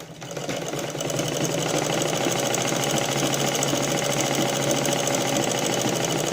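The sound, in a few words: sewing machine stitching blouse edge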